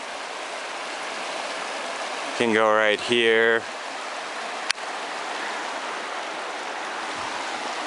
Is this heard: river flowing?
yes